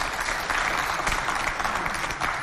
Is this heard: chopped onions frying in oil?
no